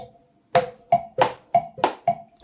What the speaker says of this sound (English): just clap along like this